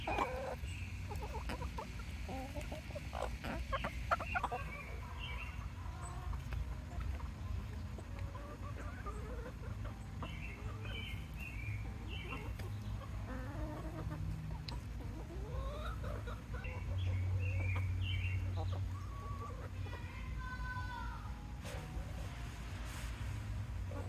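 Chickens cluck and chatter at close range over frozen treats in hot weather, a loose run of short calls going on throughout, with a faint low background hum and no clear speech.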